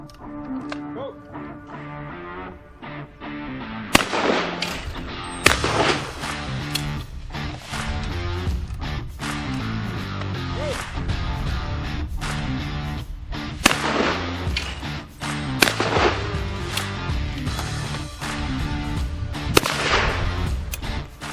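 Shotgun firing Hull Sovereign Parcours cartridges at clay targets, several sharp, loud reports spaced a few seconds apart over steady background music.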